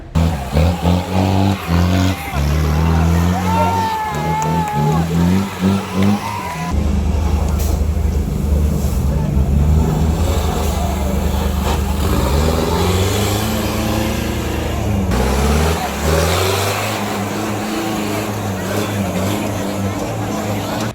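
Off-road vehicles and SUVs at a mud race at Bhoothathankettu rev and roar close by, engines rising and falling through long pulls with loud bursts of acceleration, while a voice talks over them.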